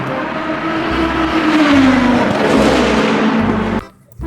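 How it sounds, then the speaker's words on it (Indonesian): A toy race car's engine sound revs loudly and steadily with a rising-and-falling whine, cutting off abruptly near the end. "Mobil balap teman-teman."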